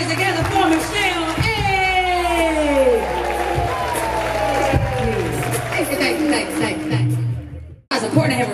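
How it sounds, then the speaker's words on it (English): An audience claps, cheers and whoops for Michelle at a gathering, with a dense crowd roar running steadily for several seconds, loud and close, and voices mixed in, before a brief drop near the end. "Put your hands together for Michelle."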